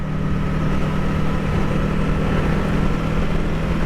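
A 2020 Kawasaki Ninja 650 motorcycle's exhaust drones steadily and loudly at a constant pitch while underway, blended with rushing wind noise, with no pauses or speech.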